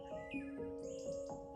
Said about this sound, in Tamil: அதுக்குள்ள மத்த பறவைங்களும் அங்க வந்துட்டாங்க.